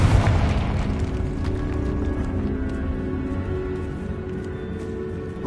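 A Confringo fire spell cast in Hogwarts Legacy bursts in a loud, deep boom at the very start, then trails off into a sustained low rumble with faint scattered crackles and clatter.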